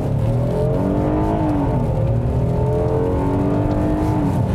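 A Kia Telluride all-wheel drive SUV accelerates with a loud, sustained engine drone as it climbs through the revs, heard close from inside with a throaty snarl and no talk.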